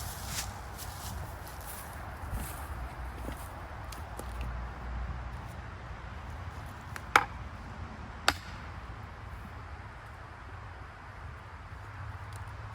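Axes and mauls split big maple rounds outdoors, with two sharp, loud chopping strikes about a second apart over a steady low background rumble.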